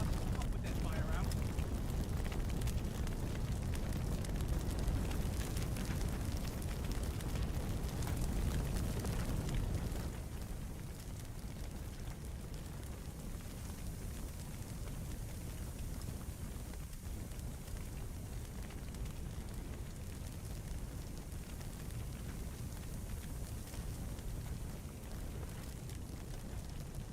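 Fire burning in Firefighting Simulator The Squad, a steady roaring, crackling rush that is loud at first, then drops to a quieter constant hiss after about ten seconds.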